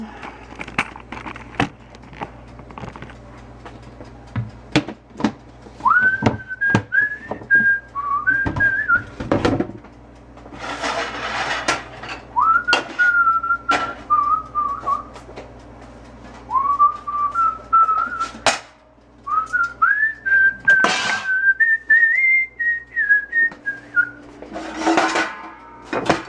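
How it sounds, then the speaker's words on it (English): A person whistles a tune in a kitchen during a cooking lesson, several bright melodic phrases separated by pauses, alongside clinks and clatter of dishes and utensils being handled nearby. "at least I can whistle it."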